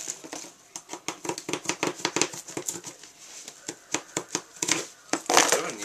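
Metal keys slicing and tearing through the tape and cardboard of a large shipping box, a rapid series of sharp scraping, crinkling strokes up close, with a burst of rougher ripping near the end.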